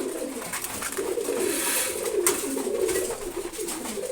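Ash-coloured pigeons coo softly in a repeated, rolling rhythm, close by and moderately quiet, with no voices over them.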